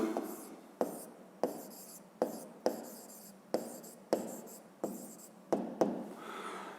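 A formula being written out in a physics lesson, heard as about ten quick, rhythmic scratching strokes with short pauses between them, faint and close-up against a quiet room.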